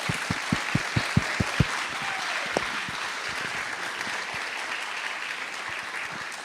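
A plenary session audience at a regional gathering applauds for a regional minister. A few sharp, spaced claps open it, then steady, dense applause fills the hall at moderate volume until the end.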